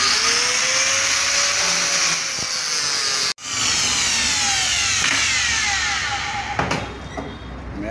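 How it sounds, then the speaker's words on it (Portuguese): Hand saw cutting through a car body, a steady broadband rasp with rising and falling whine tones, briefly stopping then resuming, loud and close with no talk. "Mete o serrote."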